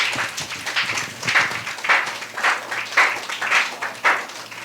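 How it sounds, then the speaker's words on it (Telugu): A church congregation claps hard together in rhythmic bursts, loud and close, filling the hall without speech. "గట్టిగా ఒకసారి చప్పట్లు కొట్టి దేవుని మహిమపరుస్తాం"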